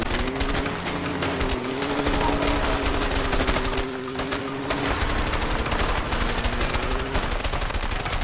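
Gunfire in the video game A Way Out, rattling in rapid, continuous bursts over a droning vehicle engine during a chase, loud and close throughout.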